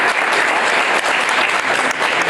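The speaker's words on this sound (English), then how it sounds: "I'd like to have a round of applause for them there." Audience at a Capitol menorah lighting ceremony for Hanukkah breaks into loud, dense applause, with many hands clapping in a steady, unbroken roar throughout.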